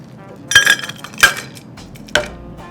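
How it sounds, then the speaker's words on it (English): A milk drink mix being shaken by hand, heard as three short, close bursts of clinking and rattling separated by brief pauses, with no talking. "Let's shake this mix."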